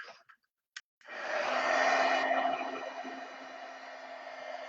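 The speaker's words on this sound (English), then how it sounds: "We're going to have to dry it, Annie." A hair dryer switches on after a couple of short clicks and blows with a steady whooshing hum, loud and close, continuing without a break.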